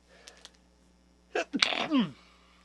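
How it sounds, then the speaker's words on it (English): A single sneeze comes after a few faint clicks and a short intake of breath, loud and close in an otherwise quiet room. "sneeze"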